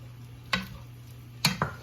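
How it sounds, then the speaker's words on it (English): Frozen peas being stirred into simmering meatballs in a pot, a few brief spoon scrapes and knocks against the pan over a low steady hum, close and fairly quiet, no talk. "now I just got some frozen peas, got 1/3 of a cup. I'm adding that in, stirring up."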